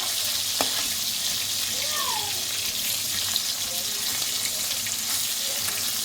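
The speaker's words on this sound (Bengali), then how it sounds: "মাছগুলো কিন্তু সুন্দর করে ভেজে নিতে হবে একদম মানে লাল লাল করে" Rohu fish pieces fry in hot oil until browned, giving a steady, moderately quiet hiss that runs unbroken throughout, with no voices over it.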